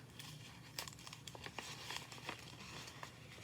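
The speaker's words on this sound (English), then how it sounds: "So you take the paper and tape it to the straw" Paper crinkles and rustles as it is taped to a straw and rolled into a big scroll, a steady close crackling with several sharper crumples and tearing-like bursts, no talk.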